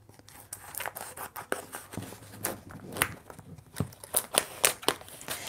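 Scissors or a blade trim excess 651 vinyl for screen printing, a series of close crisp snips and scrapes with crinkling of the sheet, irregular and fairly quiet.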